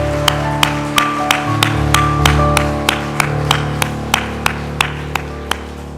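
Congregation at a Sunday worship service clapping in welcome, a slow, even series of sharp claps at a steady pace over a sustained low organ-like drone, with no voices.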